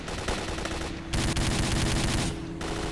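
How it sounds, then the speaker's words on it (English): Rapid automatic gunfire from a firefight in the S.T.A.L.K.E.R. video game, dense bursts of shots rattling in steady runs with brief gaps between them, fairly distant and loud. "Okay, we've got a firefight going on up here."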